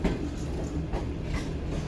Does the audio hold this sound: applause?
no